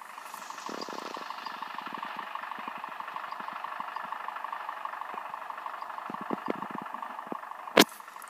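A car engine in a driving simulator game idles steadily with a low, constant hum, broken by faint clicks and one sharp knock near the end.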